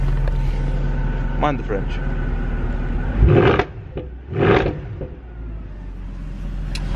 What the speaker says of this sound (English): Okay, now that's enough of the revving.